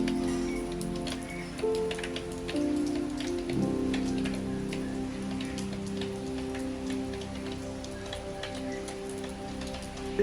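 Heavy rain pours steadily over a hilltop house in the Meghalaya hills, a dense continuous patter on surfaces close by, with a low hum beneath and no voices.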